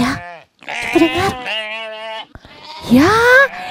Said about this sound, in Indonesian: Ya, itu suara domba.